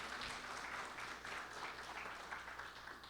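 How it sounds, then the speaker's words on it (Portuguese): A church congregation applauds during a sermon, a steady wash of many hands clapping that sounds soft and somewhat distant, continuing evenly without a break and with no one speaking over it. "Vamos aplaudir Jesus?"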